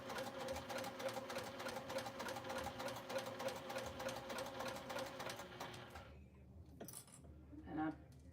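Sewing machine stitching a straight seam in rapid, even rhythmic clatter for about six seconds, then stopping, followed by quieter handling noises and brief talking.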